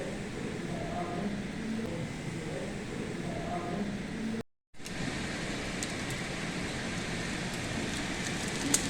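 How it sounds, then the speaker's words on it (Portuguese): Hail and heavy rain falling in a storm in Braga, Portugal, a dense steady hiss with scattered sharp ticks of hailstones, broken by a brief cut in the middle, with voices faintly mixed in. "Tá chovendo granizo, Adriano!"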